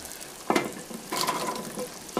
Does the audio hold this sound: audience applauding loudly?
no